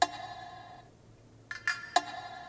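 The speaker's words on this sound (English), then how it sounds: "Castanet." Castanet percussion sample in a music production, a few sharp dry clicks: one at the start, then three quick snaps spaced apart after a short quiet gap, alone with no talking.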